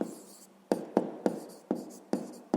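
Pen strokes writing an answer by hand on paper during a grade 5 maths exercise, seven short scratchy taps in an uneven rhythm, close and quiet with no voices.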